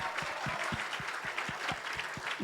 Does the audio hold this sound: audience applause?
yes